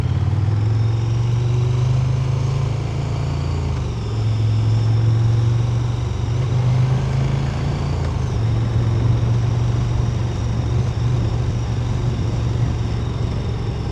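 A motorcycle on a Mod 2 riding test route in Warwickshire pulls away and rides past parked cars, its engine droning steadily and close throughout with shifting pitch as it accelerates and changes gear.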